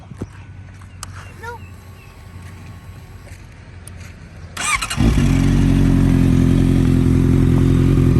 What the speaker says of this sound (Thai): สตาร์ททีเดียวติดนะครับผม เครื่องนิ่งๆเงียบๆเลยครับ